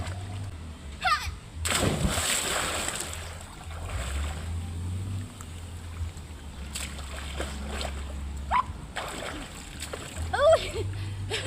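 Water splashes and sloshes in bursts as someone rinses off under a tap beside a river, with a strong splash around the two-second mark, over a steady low rumble and brief voices.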